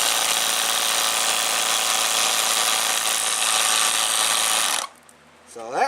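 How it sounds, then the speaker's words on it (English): A Schumacher portable 1000 peak amp jump pack's built-in air compressor runs loud and close with a steady buzzing drone for nearly five seconds, then cuts off abruptly, leaving a quiet tail where a voice begins. "There's the air compressor."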